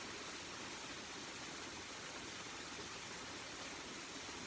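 Steady rushing water from a stream in dense forest flows continuously, a broad even hiss with no breaks, fairly close and alone without voices.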